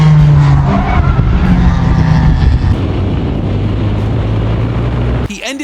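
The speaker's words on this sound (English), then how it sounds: "He ended up spinning the car right in the most dangerous part of the track." A Formula 1 car driven by a celebrity spins on the track, its loud whining engine dropping and wavering in pitch, then cutting off abruptly near the end, with a voice talking over it.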